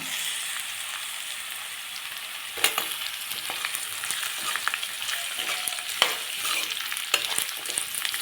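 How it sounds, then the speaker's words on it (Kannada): Onions and mixed vegetables fry in hot oil for palak hesarubele uppittu, giving a steady close sizzle broken by scraping, clattering stirs of a spatula against the pan. "ಈರುಳ್ಳಿ ಫ್ರೈ ಆಗಿದೆ. ತರಕಾರಿ ಹಾಕೋಣ."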